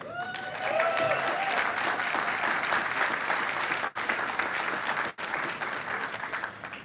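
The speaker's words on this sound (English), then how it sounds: "I appreciate the applause" A morning outdoor crowd at a Clean Water Act anniversary event applauds steadily to welcome Cleveland Metro Parks CEO Brian Zimmerman, sustained clapping with a few brief dips.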